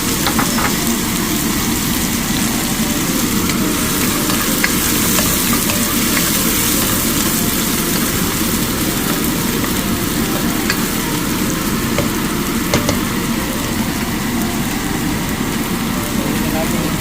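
Chopped onion sautés in a hot pan for Filipino-style spaghetti, giving a steady, dense sizzle that runs close and continuous throughout without pause.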